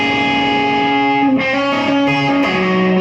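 An electric guitar played through a distortion effect rings out sustained, heavily saturated notes with a couple of pitch changes, loud and up close with no talking.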